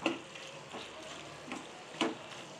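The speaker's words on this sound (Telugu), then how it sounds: "ఇలా వేసేసి ఇదంతా మసాలా దానికి పట్టేట్టు కలుపుకుందాం." Bitter gourd pieces stirred through a frying masala curry in a pan, with a steady low sizzle and a few sharp scraping stirs spaced about half a second apart, close and fairly quiet.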